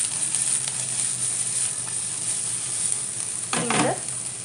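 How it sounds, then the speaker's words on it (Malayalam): Brinjal (eggplant) fry being stirred in a pan, with steady close sizzling throughout and a louder burst of scraping and stirring near the end. "ഇത് നന്നായി ഒന്ന് ഇളക്കി കൊടുക്കുക."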